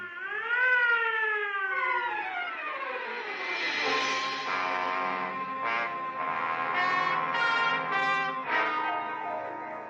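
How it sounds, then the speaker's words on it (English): An ambulance siren sound effect from a 1949 radio crime drama wails up and down loud and close, then settles into a steady tone with rhythmic pulses, heard alone without talk. "Clear the way for the ambulance."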